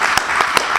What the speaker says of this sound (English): please give Mayhan a quick round of applause